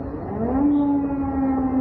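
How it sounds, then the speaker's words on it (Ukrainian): A strange wavering siren-like tone rises and then holds steady, moderately loud against a dull background. "Похоже на сирену, но какой-то странный звук."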